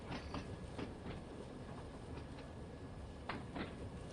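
Train from Shanklin towards Ryde approaching in Train Sim World 2, a steady loud rumble with clickety-clack wheel beats over the rails at irregular intervals, no voices.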